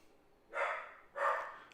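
A dog barks twice, two short, mid-pitched woofs about half a second apart, fairly close against a quiet indoor background.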